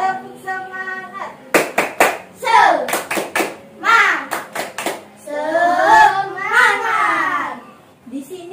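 Schoolchildren in a sixth-grade classroom chant the Tepuk Semangat clapping song, with sharp bursts of group hand claps falling between their sung and spoken words.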